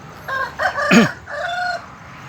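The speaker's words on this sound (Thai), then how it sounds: "มีป่าไก่มันก็เดินอยู่ในป่านะครับ" A jungle fowl crows close by: a rising-falling call with a sharp, wavering middle, over a quiet forest background.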